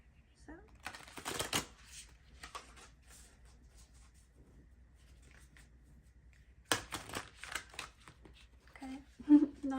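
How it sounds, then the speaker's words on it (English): Moonology Manifestation oracle cards being shuffled by hand, two bursts of crisp riffling and flicking close up, separated by a quieter stretch, with someone talking softly near the end. "not a very good shuffle. So I'm gonna do one more."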